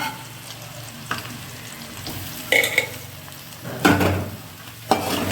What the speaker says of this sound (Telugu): వేసి వేగిన తర్వాత బంగాళదుంపలు కూడా వేసేస్తున్నాను